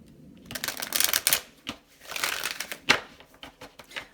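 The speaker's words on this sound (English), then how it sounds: "One more shuffle." A deck of tarot cards being shuffled in close, papery bursts of riffling and flicking, with brief pauses between the runs and no talking.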